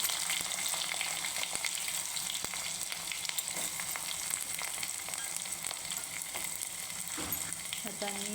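Curry leaves and chopped onion frying in hot oil for a Marathi toor dal varan, a steady, loud, close sizzle with a few sharp crackles and stirring clicks.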